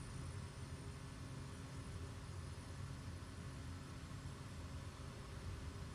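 Steady, faint drone of a single-engine aircraft's engine throttling up in Microsoft Flight Simulator 2020 at about 2,000 RPM, an even, continuous hum with no talk.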